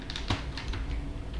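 A command is typed on a computer keyboard, a quick run of soft, close key clicks with no voice.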